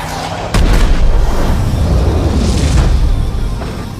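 A loud explosion bursts in with a deep boom, followed by a sustained rumbling roar that slowly fades.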